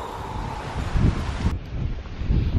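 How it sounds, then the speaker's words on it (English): Strong wind on an exposed hillside covered in tall grass buffets the microphone in a steady, loud roar that swells and gusts without pause, with no voices. "Can you hear that wind?"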